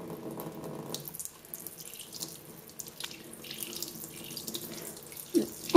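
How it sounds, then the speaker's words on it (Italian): Tap water runs in a steady, moderate stream as a makeup brush is rinsed beneath it at a sink, a continuous close splashing with a brief louder burst near the end. "con un getto d'acqua corrente non troppo forte,"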